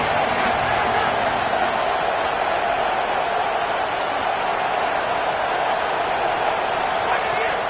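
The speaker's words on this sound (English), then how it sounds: "Here comes the noise from this big crowd in Happy Valley on third down." A big stadium crowd at a college football game in Happy Valley roars on third down in a dense, unbroken wall of cheering that stays loud throughout.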